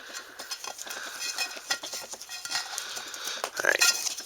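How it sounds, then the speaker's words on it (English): Metal silverware and cooking utensils from a canoe-trip mess kit being handled up close, with quiet scattered clinks and scrapes that grow into a louder clatter near the end. "I have bowls, my silverware, and my cooking utensils."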